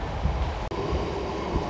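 Heard from on board, a MEMU express train running from Tenali to Vijayawada gives off a loud, steady rumble of wheels and carriage noise, with a brief dip partway through and no talk.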